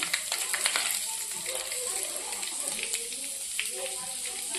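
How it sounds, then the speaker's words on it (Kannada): Hot oil spluttering in a kadai over a high gas flame, dense crackling sizzle with sharp pops, close and steady, fading slightly toward the end. "ಈಗ ಎಣ್ಣೆ ಕಾದೈತ್ರಿ ಎಣ್ಣೆ ಚಟಾಪಟ ಮಾಡತ್ತೈತಿ"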